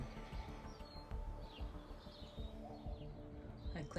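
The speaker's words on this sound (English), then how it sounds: "The birds," Birds chirp and call at sunrise in a calm garden, scattered short tweets over faint low background hum, fairly distant and quiet, with no talking.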